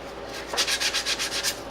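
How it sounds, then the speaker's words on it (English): Sandpaper rubs down small plastic nodules on a B-52 scale model in quick, even strokes, about eight short rasping passes close up with no talk. "if you find these little nodules here, like here's one right here, you sand it down"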